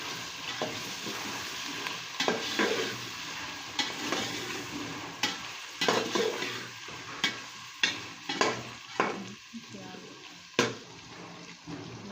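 Ginger garlic paste and whole spices fry in a pot for chicken yakhni pulao, a steady sizzle broken by repeated stirring scrapes and clinks of a spoon against the pot.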